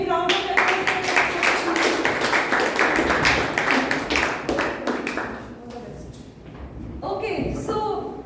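Round of applause for an evaluator at a Toastmasters club meeting, dense clapping from a room of members that runs steadily and then thins toward the end, with some voices mixed in.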